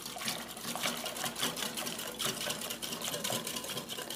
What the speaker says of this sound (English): Now I'm going to add in the dry ingredients. And I'm just kind of slowly mix them in while I'm whisking.